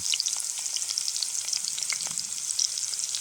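Steak, potatoes and mushrooms deep fry outdoors in hot oil, giving a close, steady bubbling sizzle with crackling pops throughout and no talk.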